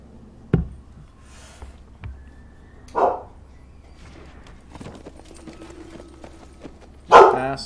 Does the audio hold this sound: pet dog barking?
yes